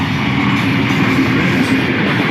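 A train rolls through a village near Hafizabad in Punjab, Pakistan, a loud, close, continuous rumble of wheels on rails with a faint rhythmic clatter, heard on its own without talk.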